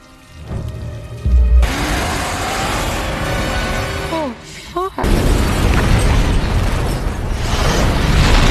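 A car explodes in a film scene: a sudden loud boom bursts in and fills the track, then a second heavy blast follows after a short lull, with rumbling debris and dramatic soundtrack layered under the blasts.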